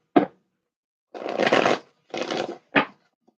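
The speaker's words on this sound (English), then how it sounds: "One more shuffle." Tarot cards being shuffled at a reading: a quick riffle snap, then two longer papery shuffling bursts and a final short snap, close and fairly loud with quiet gaps between.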